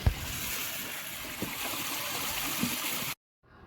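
Rice is rinsed in water for a village-style biryani, giving a continuous swishing, gurgling wash of water with a few soft knocks, followed by a sudden cutoff into near silence.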